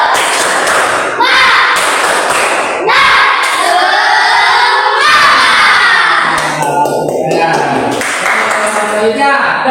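A class of children performs a rhythmic spirit clap in a school lesson, loud group clapping with shouted chanting and cheering voices, close and energetic, with pauses between bursts.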